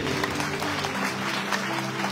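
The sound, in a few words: applause in a church service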